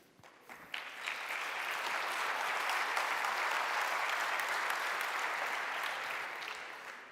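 Audience applause at a tech conference talk after a live demo, clapping that rises quickly into a dense, steady roar for several seconds before tapering off.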